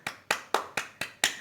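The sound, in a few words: group clapping hands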